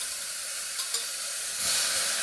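Soaked toor dal hits a hot pan for mango dal, giving a steady broadband sizzle that swells louder near the end, close and continuous with no talk.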